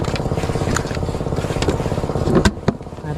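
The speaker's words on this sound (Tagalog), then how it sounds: "Pinaandar natin yung makina pala." A small machine engine runs close by with a steady, rapid chugging throb, and a few sharp clanks land near the end.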